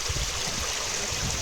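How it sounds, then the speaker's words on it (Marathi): Water from the Lingya Ghat waterfall near Temghar and Lavasa rushes in a steady, dense outdoor wash, heard on its own without voices. "जिथे आता आहे आपल्याला समोर लिंग्या घाटाचा धबधबा दिसणार आहे"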